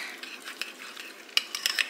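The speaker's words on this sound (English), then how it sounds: "Stir this baby up." A spoon stirs thick oats mixed with a little water in a pot, giving soft, uneven scraping and sticky swishing strokes, with a few sharper clinks against the side near the end; quiet and close, no talking.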